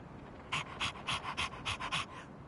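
A dog panting in the role-playing game Persona 3 Reload, about eight quick rhythmic breaths in a steady pattern, close and clear with no talking.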